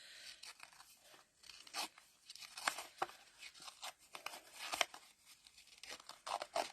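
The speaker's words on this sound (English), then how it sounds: "Run your fingernail around it and just grunge up that edge a little bit." A fingernail scrapes and roughs up the edge of a paper card, making soft, close scratchy crinkles and small tearing rasps in uneven bursts, quiet, with no talking.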